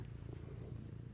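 A female cat purring on a blanket, a steady low rumbling motor-like drone that holds evenly and close throughout, with no talk over it.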